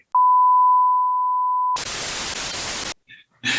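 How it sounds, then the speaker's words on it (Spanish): A single steady censor bleep tone runs for about a second and a half, loud and clean, then gives way to a burst of harsh static noise and a few brief scraps of other sound. "Ahora voy a tener que poner sonidos de bips en los videos."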